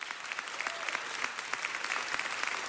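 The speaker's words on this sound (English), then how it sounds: "Give him a round of applause." An audience at a city council meeting gives a round of applause for a recording artist, a short burst of many hands with distinct individual claps audible near the front.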